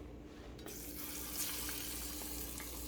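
Chicken fingers fry in avocado oil heated to around 350 degrees, giving a steady, dense sizzle and crackle that runs without a break, fairly close and with no voices over it.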